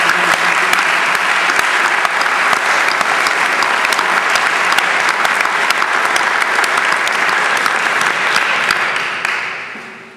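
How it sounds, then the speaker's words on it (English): At the 2014 BPC Youth Summit, an audience gives the young men a sustained round of applause, a loud, dense, even roar of many hands lasting about nine seconds before tapering off. "I would like for us all to please give these young men a round of applause."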